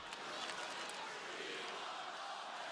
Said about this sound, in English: do y'all hear this crowd right now?